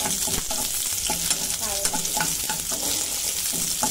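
Green chilies hit hot oil and sizzle in a dense, continuous crackle, with a few stirring knocks and spatters close by and no talking.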